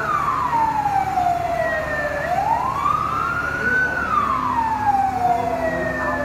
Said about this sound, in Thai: นี่ก็รถดับเพลิงเนาะเข้ามาอีกฝากหนึ่ง